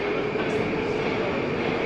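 A Moscow metro train at Novokuznetskaya station gives a loud, close, steady rushing roar with a sustained whine on top, cutting off abruptly at the end.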